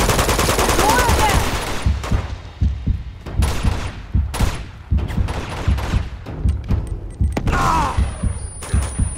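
Rapid gunfire bursts in the shooter game Uncharted 2: Among Thieves, with repeated sharp shots and thumps spread through the fight, loud and close, with a voice talking in places.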